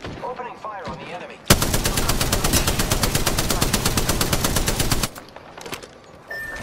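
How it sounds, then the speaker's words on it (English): Apex Legends gunfire comes as a loud, rapid automatic burst of evenly spaced shots lasting about three and a half seconds, with quieter game sounds and a brief voice before and after. "Opening fire on the enemy."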